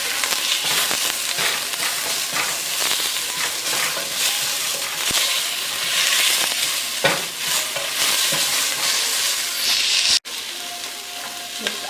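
Onions fry and get stirred in a pan for a Cuban chicken fricassee, with a steady close sizzle and repeated scraping strokes. A sharp clack near the end briefly interrupts the sound. No voices.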